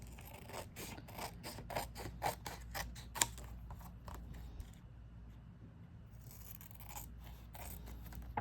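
A paper folder insert being cut with scissors, a run of close, quiet, evenly spaced snips that slow and fade before a few final cuts.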